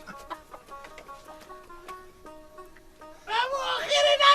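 Chicken clucking in a Herati-language stage play, with a run of short repeated clucks and bird calls. A denser, louder burst of squawking comes at the end.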